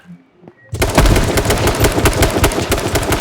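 Rapid automatic gunfire in a shooting video game bursts in loud and close after a quiet start, then keeps going as a dense, continuous stream of shots.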